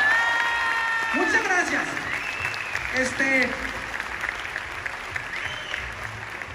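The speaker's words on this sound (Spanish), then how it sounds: "Quiero un fuerte aplauso para todos ustedes." Crowd applause fills a live show in Mexicali, steady clapping mixed with shouts and cheers, while someone speaks briefly over it and the clapping gradually thins toward the end.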